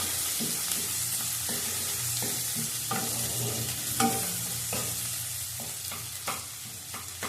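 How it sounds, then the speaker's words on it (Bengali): Chopped onions frying in a pan, a continuous bright sizzle with repeated scraping stirs and clinks from a spatula, close and steady throughout. "পেঁয়াজ দিয়ে দিলাম। এটা ভালো করে ভেজে নেবো।"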